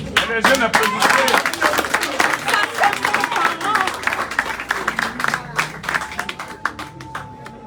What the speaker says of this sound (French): Les jeunes applaudissent.